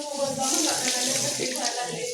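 Steady running water splashing, like a tap pouring into a sink, continuous for a couple of seconds with no talking.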